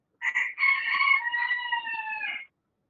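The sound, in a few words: rooster crowing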